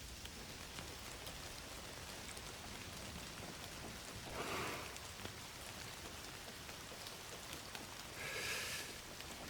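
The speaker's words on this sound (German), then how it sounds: "Regen ist herrlich." Steady video-game rain in Indiana Jones and the Great Circle patters softly and continuously, with a couple of faint swells of heavier drops along the way.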